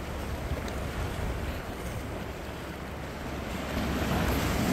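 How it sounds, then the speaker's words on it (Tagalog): Waves wash steadily onto a shell-strewn beach on Bermuda island, a continuous broadband surf roar mixed with wind buffeting the microphone, swelling slightly louder toward the end. "hampas ng tubig."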